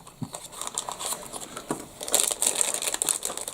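Scissors stab and tear into blind box packaging for collectible toys, giving crisp crinkling and crackling bursts close up that turn into a denser run of rustling near the end.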